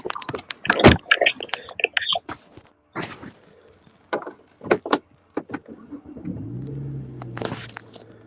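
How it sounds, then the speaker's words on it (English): Interior of a car with door and handling clatter, scattered knocks and rustles, then a low engine rumble starting up and holding in the background, with brief bursts of nearby talk. "I'm in the car now."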